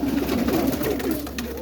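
Roller pigeons coo in a dim loft, low soft rolling calls repeating close by, with faint rustling and no voices.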